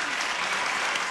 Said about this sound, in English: Belated applause, but you got it